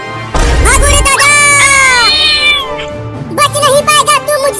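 A cat meows in long, drawn-out, wavering cries, then a shorter burst of meowing near the end, loud and close against a low background rumble, with some talking mixed in.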